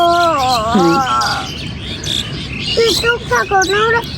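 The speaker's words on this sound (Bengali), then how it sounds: "বিকালে আসলে পাখির কিচিরমিচির মানে আমার থেকে জোরে পাখিয়ে কথা বলে" Birds chirp and tweet loudly and close by in a rooftop garden, with rising and falling calls that come in bursts across the whole stretch and a voice heard faintly in places.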